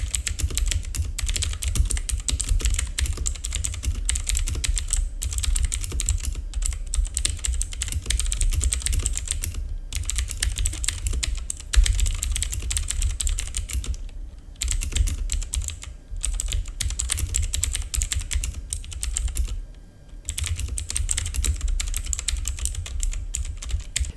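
Fingers type steadily on a mid-range mechanical gaming keyboard, producing a dense, continuous clatter of close key clicks with a few brief pauses.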